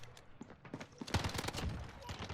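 Rapid bursts of Uzi submachine gun fire in Call of Duty: Modern Warfare, loud and dense, with shots crackling in quick succession over background game sounds.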